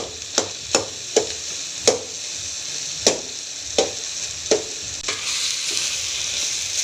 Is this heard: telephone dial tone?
no